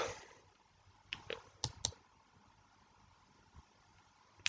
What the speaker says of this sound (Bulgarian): Кликаме на лупата и ни се показва.